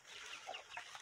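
A hen clucks in a few short, soft bursts close by on a rural property near a water spring, with no talking over it.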